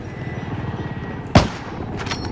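A single sharp, loud sniper rifle shot in a first-person video game cracks out once over a steady background hum, followed by faint distant rattles.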